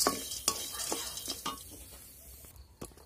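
Rice and chickpeas frying in a pan while being stirred, a steady sizzle punctuated by sharp scraping strokes of the spoon roughly every half second, close and fairly quiet, no voices.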